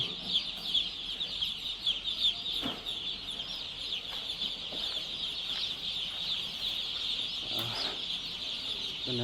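A dense chorus of baby chicks cheeps continuously while being unloaded at a poultry farm at night, the high shrill peeping steady throughout with occasional faint knocks and handling noises.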